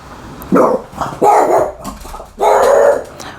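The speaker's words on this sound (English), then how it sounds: "someone is knocking outside, the reason why my dog is barking" A dog barks indoors at someone knocking outside, giving three loud, close bark bursts with short gaps between them.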